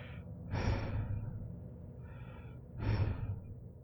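A voice imitates heavy breathing: two loud, slow, rasping breaths close to the microphone, separated by a quieter exhale.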